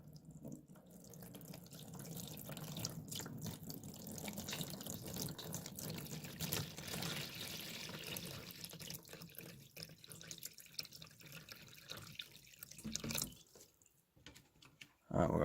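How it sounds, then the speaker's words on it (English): Water poured slowly into a homemade aquaponic system, trickling and splashing steadily as it drains, with uneven gurgling surges that fade and return over several seconds, close by and unaccompanied by talk. "We're going to pour it into here real slow."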